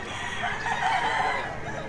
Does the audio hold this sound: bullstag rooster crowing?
yes